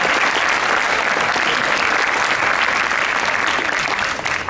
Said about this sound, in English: So one more round of applause for all the jazz programs.